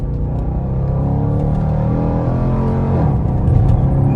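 A 5.7-liter V8 in a 2023 Dodge Durango R/T with the performance package, a loud, steady, deep engine rumble that swells slightly toward the end, with no voices.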